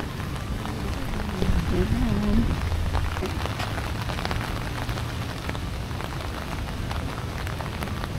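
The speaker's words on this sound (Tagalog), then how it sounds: "Di ba naman lakas ng ulan?" Heavy rain pouring down steadily during a day tour of heritage spots in Iloilo, a dense close hiss of drops on surfaces, with a brief voice heard early on over the downpour.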